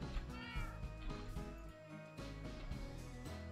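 Many cats meowing in the video game Minecraft, a busy overlapping chorus of repeated meows at varied pitches, fairly loud and continuous with short gaps.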